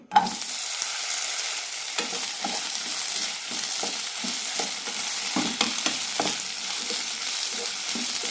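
Ivy gourd pieces hit a teaspoon of hot oil in a pan and keep up a steady close sizzle, broken by repeated soft scrapes and clicks of stirring.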